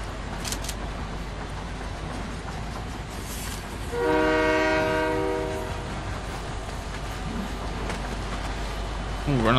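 A loud train horn in the Fortnite video game sounds as a steady chord for about two seconds midway, over constant rumbling game ambience and clicks.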